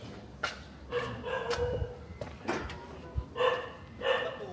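A dog barks and yelps in several short, separate outbursts nearby, against a quiet background.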